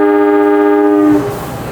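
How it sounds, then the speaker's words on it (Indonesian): As the Airlangga passenger train leaves Jatinegara station, its horn gives a loud, close, steady blast that lasts just over a second. It cuts off into a lower rumble of movement. "Kereta api Airlangga berangkat dari stasiun Jatinegara"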